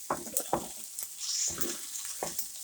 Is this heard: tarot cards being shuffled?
no